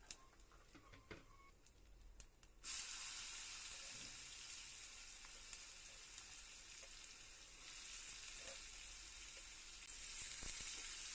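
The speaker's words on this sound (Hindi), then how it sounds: "यहाँ पर लगा रही हूँ मैं दाल के अंदर छौंक" Hot chhaunk tempering hits a pot of dal with a sudden loud burst of sizzling that keeps hissing steadily and close up for several seconds, after a few faint kitchen clinks, with no one speaking.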